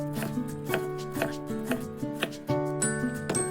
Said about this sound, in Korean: 우선 양배추를 원하시는 사이즈로 먹기 좋게 썰어주세요